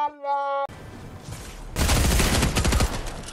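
Video game gunfire erupts after a short musical chime and a lull, a loud close burst of rapid shots with sharp repeated cracks that holds for over a second before easing.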